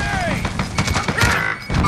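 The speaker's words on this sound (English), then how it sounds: "They're throwing grenades." Grenade explosions and heavy thuds in Call of Duty Modern Warfare (Warzone) at close range: a short burst of booms and crashes over a couple of seconds, mixed with speech.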